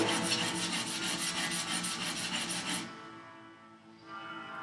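A steel plane iron is sharpened by hand on a workbench, making a fast, even run of rasping rubbing strokes close up that stop abruptly, leaving near quiet with a faint rustle.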